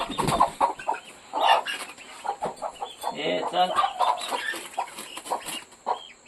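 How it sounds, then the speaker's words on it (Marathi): A hen clucks repeatedly close by in short, busy bursts, while a person briefly speaks in between. "आता ही कोंबडी आहे"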